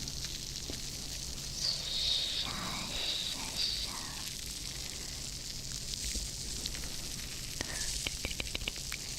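A steady hiss of sizzling runs throughout, with faint crackles and a few sharp pops near the end, close and moderately loud.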